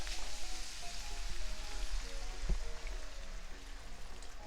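White wine poured into a hot pan of Creole shrimp and grits base sets off a steady, dense sizzle and crackle with faint low hum underneath, continuous and close with no talking.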